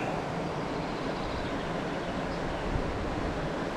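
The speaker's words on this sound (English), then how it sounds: "It's very windy out here, so I hope you can hear me." Steady wind blowing beside a wild Irish river where brown trout are fished, a constant broadband rush with gentle low-frequency rumble and no distinct gusts, fairly faint and continuous throughout.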